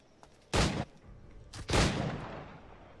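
Two loud pistol shots from Assassin's Creed IV: Black Flag, spaced about a second apart, each with a sharp crack and a trailing reverberant tail, with no talk over them.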